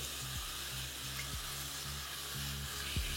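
Thinly sliced potatoes, three in all, fry with salt and a little turmeric in a pan, giving a steady close sizzle with a few soft stirring scrapes and no voices.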